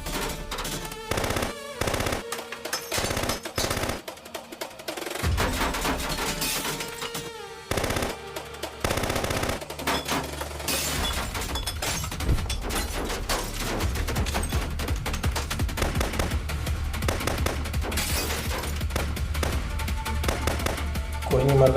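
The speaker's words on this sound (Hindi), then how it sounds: "गोलियां चल रही हैं सामने।" Gunfire from a Pakistani TV drama scene: dense bursts of rapid automatic shots and scattered single cracks, loud and continuous with dramatic music underneath, and occasional voices mixed in.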